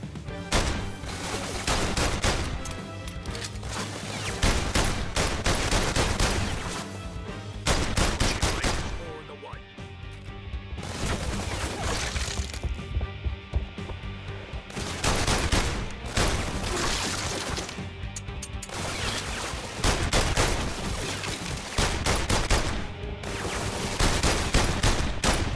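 Gunfire in the VR video game London Heist, with dense bursts of rapid shots and fusillades in repeated loud volleys separated by short gaps, heavy and close throughout.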